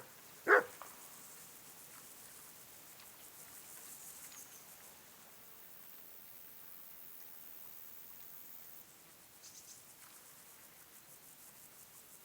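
A dog in the video game Kingdom Come Deliverance gives one sharp, loud bark near the start, then only quiet ambient outdoor noise follows.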